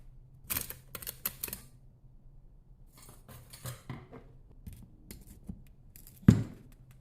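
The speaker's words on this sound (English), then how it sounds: "it's now time to remove it from the sand" Lost-foam aluminum casting being dug out of sand, heard as scattered scraping, gritty shuffling and clinks in short irregular bursts, ending with a sharp knock near the close; no talking.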